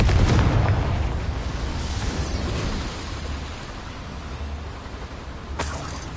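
Confringo fire spell explosion in the video game Hogwarts Legacy, inside a small mine: a heavy boom at the start trailing into a long rumbling decay, with a second sharp crack near the end.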